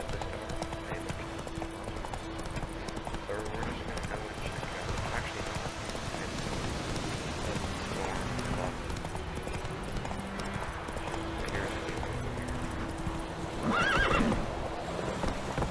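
In The Witcher 3: Wild Hunt a game horse trots steadily with rhythmic clip-clop hoofbeats, and a louder neigh rises near the end, alongside game background sound and faint voice lines.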